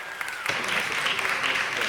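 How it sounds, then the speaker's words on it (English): A room at a city council meeting breaks into applause, rising from a few scattered claps into a full, even clatter of hands. "Please give Glenn Dake a round of applause."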